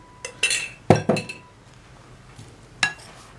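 Spoon stirring an eggplant batter with a spoonful of starch in a bowl, giving a few sharp metallic clinks and taps against the bowl in quick bursts, then a pause and one more clink, with no talking.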